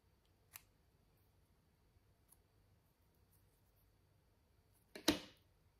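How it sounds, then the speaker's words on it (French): Scissors snip paper for a Mother's Day paper flower craft in a quiet room. A faint single snip comes early, and a louder, crisper cut follows a few seconds later. "je ne suis pas capable de couper droit."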